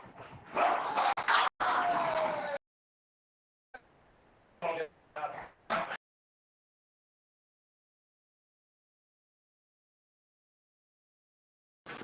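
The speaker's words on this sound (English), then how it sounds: "Oh, angry dogs." Small chihuahua-type dogs barking angrily, sharp yips and barks in short bursts with gaps and abrupt cutoffs, picked up over a portable amateur radio link alongside a person talking.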